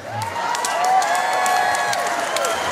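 Concert audience at a tribute show breaks into loud, sustained applause with cheering and whoops, a dense steady wash of clapping that holds for the whole stretch.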